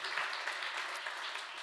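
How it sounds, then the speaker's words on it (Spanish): Church congregation applauding: a dense, continuous wash of many hands clapping together, brief and fairly faint, heard from within the room. "Dale un aplauso al Señor."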